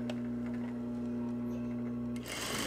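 An electric sewing machine stitches a reversible jacket with a steady whirring hum and fine ticking, then stops abruptly near the end, leaving a brief rustle; close, with no talking.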